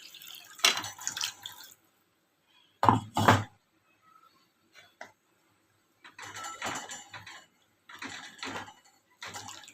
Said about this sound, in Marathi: मी मिक्स मिक्सरचं भांडं धुवून घेतलेलं आहे आणि ते पाणी टाकते त्याच्यामध्ये